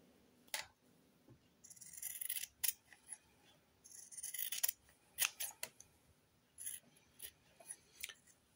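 Scissors snip through fabric while trimming the seam allowance of a cloth wipe, giving a series of close, crisp cuts in irregular bursts with short pauses between them, with no talking.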